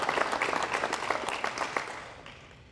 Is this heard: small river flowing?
no